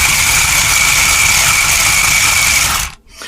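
A small electric motor in an SGILE Atom Max RC stunt car runs up on a small table, giving a steady, loud high whine with a buzzing undertone that cuts off abruptly near the end.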